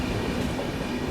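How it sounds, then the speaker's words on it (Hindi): A Mainpuri-Agra MEMU train at a railway station platform gives off a loud, steady rumble with faint rail clatter, heard alone with no voices. "और यहाँ प्लेटफॉर्म नंबर 2 पे खड़ी है अपनी मैनपुरी आगरा मेमू,"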